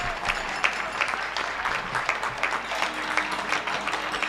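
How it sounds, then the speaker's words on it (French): Neighbours in Paris's Belleville district applaud at 8 pm, the scattered clapping rising and falling steadily from surrounding windows at a moderate distance, with no voices audible over it. "on vous fait profiter des applaudissements de Belleville"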